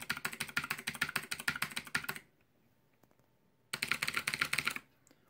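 Two quick bursts of clicky mechanical keyboard typing, close and crisp, separated by a short quiet pause.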